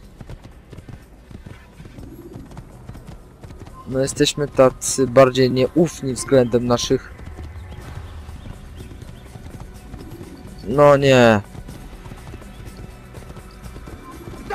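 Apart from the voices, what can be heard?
horse galloping in video game Assassin's Creed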